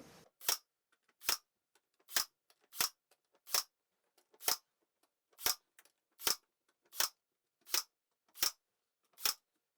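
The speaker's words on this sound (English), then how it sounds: "nail everything to the studs using 2-inch nails this time in the nail gun" Twelve sharp, evenly spaced bangs as a nail gun drives 2-inch nails through MDF window and door trim into wall studs, each crisp pop close and alone with silence between.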